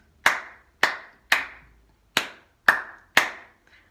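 Hand claps beating out a simple rhythm, six sharp, close claps in an uneven pattern with short pauses between groups, clear and alone with no voices.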